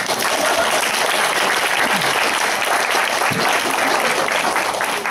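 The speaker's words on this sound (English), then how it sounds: "let's give our heartfelt applause to Đằng Võ." Enthusiastic applause fills a graduation party, a dense steady wash of clapping from many hands that continues unbroken for several seconds.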